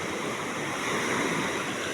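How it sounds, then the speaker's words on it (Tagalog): Continuous roar of big surf at a beach resort in Quezon, Philippines, during a storm, with wind buffeting the microphone, a broad steady rush of crashing ocean water. "lalaki ng alon doon"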